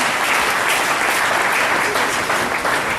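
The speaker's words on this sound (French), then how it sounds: "Applaudissons très fort pour le Seigneur Jésus-Christ" Steady, loud congregational applause at a church deliverance service, continuous dense clapping filling the whole stretch with no voices.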